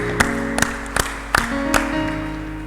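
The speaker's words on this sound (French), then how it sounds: "nous acclamons notre Dieu" A church congregation at a solemn worship convocation claps to acclaim God, a handful of separate, evenly spaced claps ringing out over sustained music tones.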